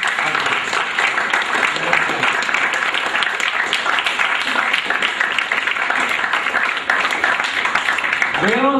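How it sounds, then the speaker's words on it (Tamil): Loud sustained audience applause in a hall during an education event in Vellore district, honouring the organisers. The clapping fills the room from start to finish and sits under some background voices. "அவங்களுக்கு பலமான கைத்தட்டல் கொடுத்துடலாமா?"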